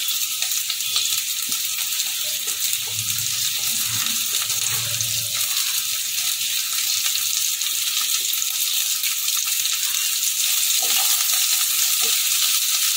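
Shredded cabbage and carrot hiss in a hot pan for chilli garlic prawn egg noodles, a constant close sizzle broken now and then by soft stirring scrapes, with no talking.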